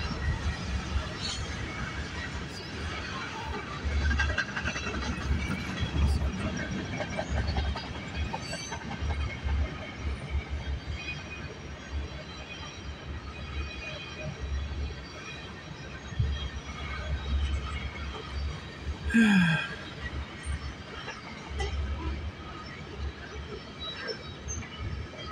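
A CN freight train rolls past at Bronte on a morning, a steady low rumble of cars and wheels at moderate distance with a brief metallic wheel squeal near the end.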